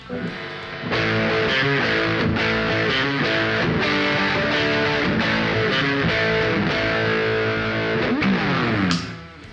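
An Epiphone Les Paul Modern Figured electric guitar plays with the coil split engaged on the middle pickup selection, a loud, slightly driven run of chords and notes lasting several seconds before ending in a final ringing flourish.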